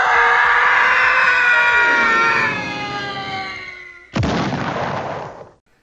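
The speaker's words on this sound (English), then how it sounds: "put in the Howie scream" A falling-guy scream effect for a Fall Guys edit: a loud, sustained scream that slides steadily down in pitch over about four seconds, then a short burst of harsh noise that fades out at the end.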